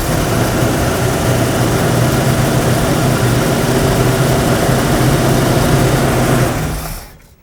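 A car engine running just after an Edelbrock carburetor installation, a loud, close, rough steady roar that holds evenly for several seconds before shutting off and dying away quickly.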